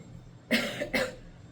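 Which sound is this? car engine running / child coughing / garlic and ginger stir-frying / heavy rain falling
child coughing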